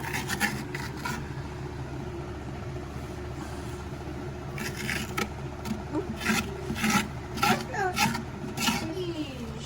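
Pumpkin being scraped out inside, rough rasping strokes in short bursts that grow busier toward the end, close up and fairly quiet, with people chatting at times.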